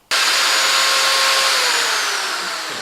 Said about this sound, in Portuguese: A furadeira azul tem um controle de torque e a laranja não